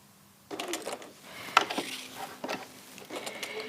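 A sewing machine runs in short bursts while overstitching around circle edges on a quilt-as-you-go quilt with templates, its needle mechanism whirring and clicking at close range in separate runs.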